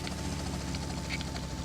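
Helicopter in a video game, a steady low droning rotor and engine hum at moderate level, continuous throughout with no voices.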